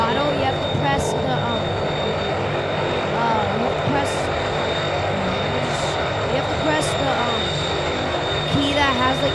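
Aircraft engine in a BeamNG.drive flying mod, a steady loud droning roar that holds throughout with slight pitch shifts as the throttle rises, under occasional faint game sounds.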